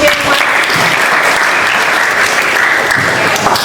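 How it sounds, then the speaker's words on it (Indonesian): A classroom of students applauds during a civics lesson, a dense, steady wash of many hands clapping at once that holds loud and even throughout. "Beri tepuk tangan dulu dong"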